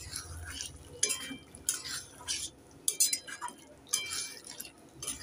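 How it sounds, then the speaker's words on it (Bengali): Spoon stirring Bengali potato curry (aloo dum) with chopped coriander in a pan, giving several soft scraping and clinking strokes at irregular intervals, close and moderately quiet. "একটু নেড়ে চেড়ে দিয়ে দেব।"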